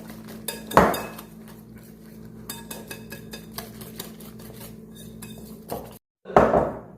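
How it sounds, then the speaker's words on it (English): Beignet dough mixed by hand in a bowl, with steady clinking and scraping of a utensil against the bowl, punctuated by a few louder knocks and clanks, close and without talk. "Keep on mixing."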